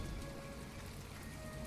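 Steady rain patters and hisses evenly on surfaces in the farming game My Time at Portia, a soft continuous wash with no other sounds standing out.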